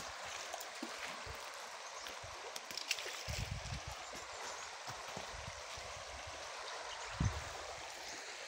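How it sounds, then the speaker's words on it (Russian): Steady broadband rush of a mountain river in Vietnam, continuous and fairly close, with occasional low thumps and gurgles. "Горная река во Вьетнаме."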